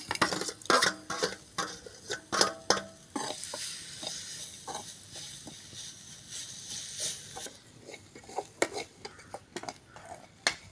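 Cumin, fennel, poppy seeds, roasted gram, a small piece of cinnamon and coconut are sauteed in a pan, heard as close scraping and clinking strokes of a spatula over a light sizzle, with a brief quieter stretch in the middle.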